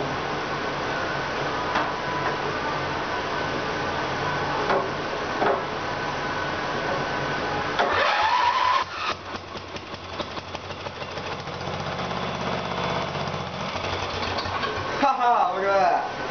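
An 11 hp Briggs & Stratton engine on a 1984 Craftsman mower cranks and catches midway, then runs with a rough mid-pitched idle close by, with people talking over it.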